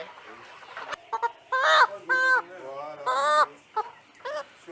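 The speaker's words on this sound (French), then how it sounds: "Puis direction le poulailler. Et les coqueliers là, ça va là-bas?" Chickens and young cockerels in a henhouse give a series of loud, close, drawn-out clucks and calls, with short pauses between them and a person speaking in the background.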